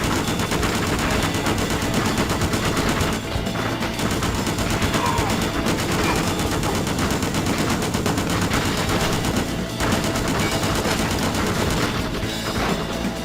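Continuous gunfire from the Just Cause video game, with dense rapid bursts and booming shots rolling on loudly through the whole stretch, near and relentless.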